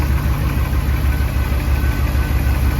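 A deep, steady 6.0 LS V8 engine idle in a 1951 Chevy 3100 4x4 pickup rumbles continuously at close range, even and unbroken throughout, with no voices.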